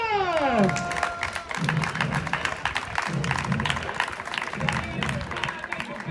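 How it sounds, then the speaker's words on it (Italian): Crowd applause for the Palermo Calcio 5 futsal team at a Serie C1 Sicilia match: a sweeping tone opens, then sustained clapping and cheering fill the arena while an announcer's voice carries over it. "voglio sentire un grande applauso per il nostro Palermo!"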